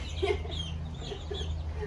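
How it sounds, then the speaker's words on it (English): Chickens cluck repeatedly at a moderate distance outdoors, short throaty calls recurring in loose bursts over a steady low rumble of background noise. "I know there's some chickens up there."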